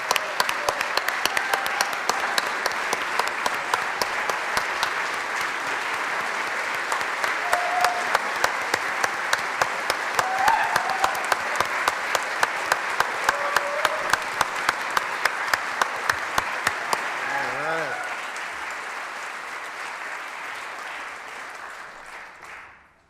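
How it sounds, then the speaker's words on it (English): Audience applause at the 2020 State of the Tribes Address swells into loud, sustained clapping from a large crowd with sharp individual claps on top, lasting about twenty seconds before fading out. "Let's give him a round of applause."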